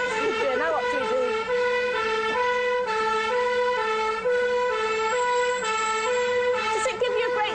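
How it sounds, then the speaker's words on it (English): Police car siren wailing continuously as the car speeds through the city of Bath, its rising and falling tones steady and prominent throughout over road noise. "We're actually speeding through the city of Bath with the police siren, and Ken is doing wonders for us."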